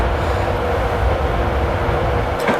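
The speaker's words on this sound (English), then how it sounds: "You'll notice here that the train shakes around on this route" A train in Train Simulator 2017 rumbles continuously along the track, shaking and rattling in a loud, steady low roar, with a brief sharper clatter near the end.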